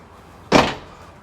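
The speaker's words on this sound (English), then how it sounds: "Nice heavy-duty hinge door," Heavy-duty hinged cabin door swinging shut with one solid thud on a 2024 Aviara AV36 outboard boat, close and fairly loud, fading into a short muffled tail.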